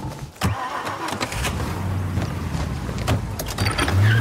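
A car engine in Mafia: Definitive Edition turns over and revs up, a steady mid-pitched drone with brief bursts over continuous game ambience, close and fairly loud.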